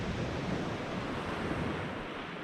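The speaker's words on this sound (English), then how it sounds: "On nights like tonight, I mean, you can hear that water, surely." Sea waves wash along the Holderness coast at night, a steady broadband rush of surf mixed with wind buffeting the microphone, constant and close with no voices.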